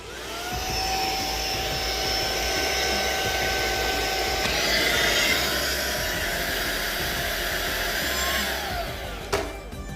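OYLIK cordless 2-in-1 air duster vacuum, rated at 90,000 RPM, running as a vacuum with a loud, high-pitched whine and airy hiss that shifts pitch midway, then cuts off abruptly with a click near the end.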